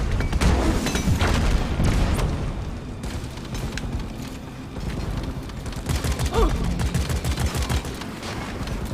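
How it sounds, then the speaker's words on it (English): Enemy explosives and gunfire in the co-op mining shooter Deep Rock Galactic, during a festive event: a dense, continuous barrage of booms and rattling blasts, loud and close, under occasional voices. "It's chucking explosives about."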